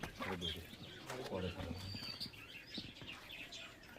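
A pigeon's wings flap in quick fluttering bursts close by, with soft pigeon sounds and people talking over them.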